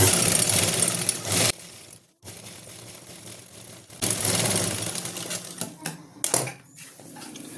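A sewing machine stitching a salwar runs in two fast, steady mechanical bursts of about a second and a half each, with quieter pauses and small handling clicks between them.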